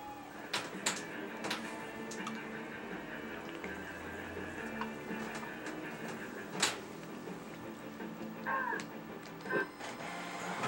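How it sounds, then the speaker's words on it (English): A home printer runs quietly in a room, giving faint mechanical whirs and several sharp clicks and clunks as paper feeds. "That's my printer."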